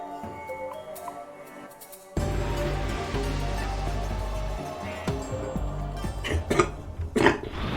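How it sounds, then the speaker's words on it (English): A man coughs over background music and sound effects from the Xenoblade Chronicles X video game, with a few short, rough bursts standing out near the end. "I couldn't pause in time before I had to cough"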